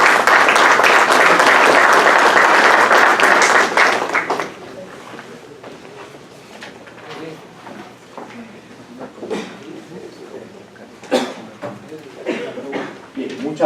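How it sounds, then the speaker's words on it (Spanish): Dense audience applause welcoming a district mayor onstage at a national road-safety council meeting, loud and sustained for several seconds before thinning out into scattered claps, shuffling and murmurs. "Lo recibimos con un fuerte aplauso, por favor."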